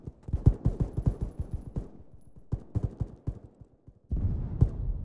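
Bursts of gunfire in a military video game, rapid irregular shots at close range in clusters with short gaps, closing on a louder sustained burst of fire.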